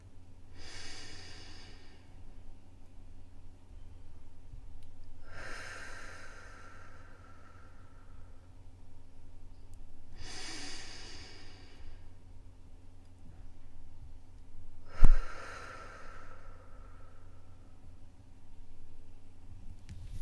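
Slow, paced breaths from a guided breathing exercise, four long airy exhales spaced about five seconds apart with quiet holds between, close and soft over a steady low hum.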